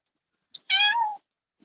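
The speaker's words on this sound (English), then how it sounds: "Did you just meow?" A single clear meow, about half a second long and rising then falling, cuts through near silence, with tiny clicks just before and after it.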